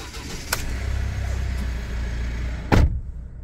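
Engine of a 2019 Mitsubishi Triton GLX manual ute starting up, a steady low rumble from nearby with a sharp click near the start and a brief louder surge near the end.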